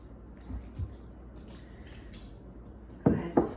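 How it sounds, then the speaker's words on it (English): Warm water splashed by hand into country bread dough being mixed and hydrated, heard as a few soft wet squishes and drips, two sharper splashes near the end, fairly close and alone. "I'm gonna go ahead and splash a little bit more of this warm water in here"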